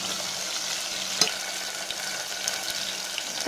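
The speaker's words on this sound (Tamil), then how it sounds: "வெங்காயம் ஆட் பண்ணிவிட்டு நல்லா மிக்ஸ் பண்ணி விட்டுக்கோங்க." Sliced onions sizzling gently in oil for onion kara kulambu, a soft continuous fry with occasional spoon scrapes and one brief clink while being stirred, no talking.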